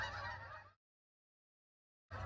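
A loud, nasal Canada goose honk cuts off into silence, then another honk begins at the very end.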